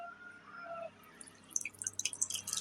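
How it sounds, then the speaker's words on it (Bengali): Hot milk tea trickles and drips into a clay cup, a quiet, close pour that grows into a rapid, splashy run of small droplets toward the end. "তো আমি এখানে চাটা ঢেলে দিচ্ছি এখন"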